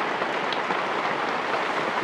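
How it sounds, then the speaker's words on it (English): Steady dense hiss of heavy rain pouring down nearby, constant and unbroken throughout. "It's raining heavy."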